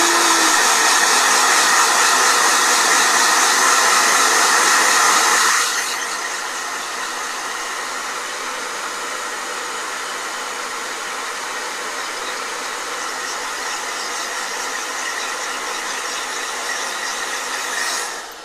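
A blow dryer runs loud and steady nearby, its airflow roar dropping to a lower setting after about five seconds and continuing until it cuts off at the end.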